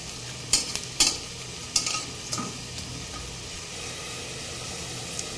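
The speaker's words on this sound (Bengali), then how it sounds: "দেখুন আমার লাউ শাকের বড়াগুলো কিন্তু ভাজা হয়ে গিয়েছে" Bottle gourd leaf fritters sizzle steadily in a frying pan, a constant loud hiss broken by a few sharp clinks and scrapes early on.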